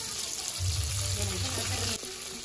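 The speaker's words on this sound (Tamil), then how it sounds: "கடுகு நல்லா பொரிஞ்சதுமே கருவேப்பிலை ஆட் பண்ணிக்கலாம்" Mustard seeds splutter and crackle in hot oil in a pan, a steady sizzling hiss with scattered pops heard close up, while a person talks over it.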